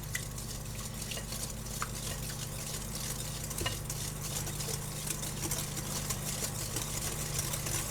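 Pumpkin spice cranberry bread batter being beaten, probably with an electric mixer. A steady low motor drone runs the whole time, with faint scraping and clicking over it, close and continuous.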